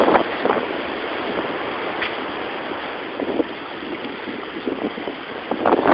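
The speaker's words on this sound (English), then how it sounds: "Here comes another gust. Another gust, here we go. This is 49, 50 miles an hour." Strong nor'easter wind gusts roaring steadily outdoors during a March storm, a dense continuous rush that surges in places, with faint cracks and pops scattered through.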